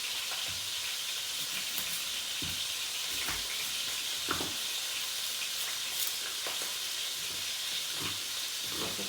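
Onion frying in a hot pan for a beef coconut curry, a steady loud sizzle and hiss with occasional crackles and stirring clicks throughout, no voices.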